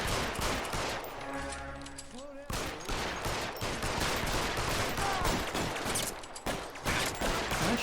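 Gunfire in the video game L.A. Noire: dense, continuous rapid shots crackle throughout amid game noise, loud and close, with a brief tonal sound partway through.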